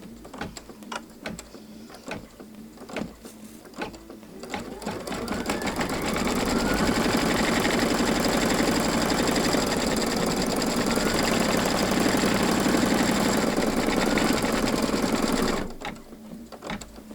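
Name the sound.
sewing machine stitching a bunny pillow wrap appliqué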